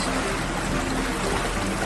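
Jets of a Balboa swim spa churn at high speed, throwing up big waves in a loud, dense, continuous rush of turbulent water, close and with no voices over it.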